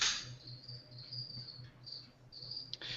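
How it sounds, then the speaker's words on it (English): Crickets chirp in a steady pulsing rhythm, a thin high trill repeating throughout at moderate level with a faint low pulse beneath, no talking. "The crickets."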